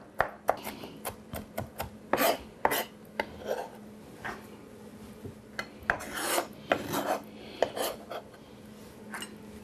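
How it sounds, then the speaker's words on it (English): Vinegar-soaked jalapeno peppers chopped with a spoon on a board, a brisk irregular run of close scraping, tapping chops over nearly ten seconds, with brief clinks of metal. "And we're just going to chop these."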